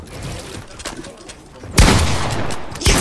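Gunfire in the video game Fortnite, with a burst of loud, rapid shots cracking out in the second half, preceded by softer scattered game noise and faint chatter.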